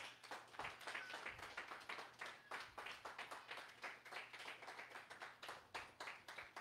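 A church congregation claps in praise, a quiet and rhythmic run of quick, regular handclaps with a steady pulse and a low hum underneath.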